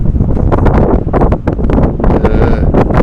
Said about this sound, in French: Là, j'ai un vent de derrière qui fait avancer mon bateau.